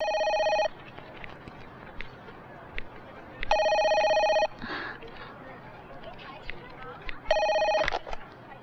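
A telephone bell rings in three separate bursts of electronic trilling, fairly loud and close, with quiet room sounds and brief movement between them.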